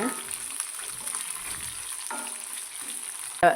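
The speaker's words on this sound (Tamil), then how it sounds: "பிரண்டை சேர்த்து நல்லா வதக்கி விடுங்க" Pirandai (veld grape) pieces fry in a pan with a steady light sizzle, interrupted by a few scraping stirs and a sharp clink of the spoon near the end.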